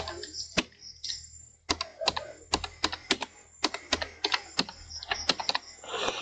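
Quick bursts of keystrokes on a computer keyboard while an address is entered into an online apprentice application form, clicks coming close and crisp in uneven runs with brief pauses.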